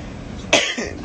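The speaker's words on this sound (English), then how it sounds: "This is exotic cough." A single sharp cough, loud and close, with a short follow-on huff just after.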